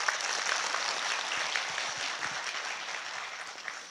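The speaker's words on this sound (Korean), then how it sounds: "지금 박수 치신 분들 복 받으실 거예요" A lecture audience claps in a steady, even patter, moderately loud and continuous, with only faint voices underneath.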